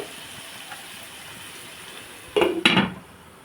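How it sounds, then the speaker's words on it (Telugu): Onions cooking in a pan for a brinjal curry, with a quiet steady background and two brief loud bursts of stirring and pan clatter near the end. "ఒకసారి కలుపుకుందామండి ఇదిగోండి ఉల్లిపాయ మగ్గుతుంది"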